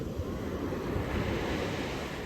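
Sea waves at the beach, a continuous dense wash of surf with some wind on the microphone, steady and fairly close with no voices.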